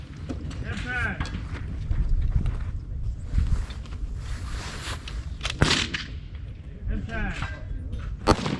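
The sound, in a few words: rifle gunshots at a precision rifle (PRS) match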